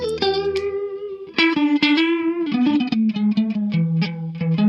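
Guitar run through a Joyo Ironman chorus pedal with depth and rate turned all the way up, giving sustained notes and picked phrases a deep, wobbling, detuned shimmer. The playing is loud and continuous, with no talking.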